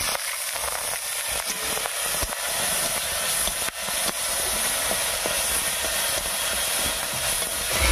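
Green chilli and ginger paste dropped into hot tempering oil already frying black cumin seeds and dried red chillies, giving a steady, bright hissing sizzle with small crackles throughout, fairly close and without talk.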